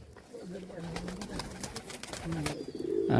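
Madrasi pigeons coo in soft, repeated low calls at close range, mixed with brief clicks and rustles, while someone talks over them in the background.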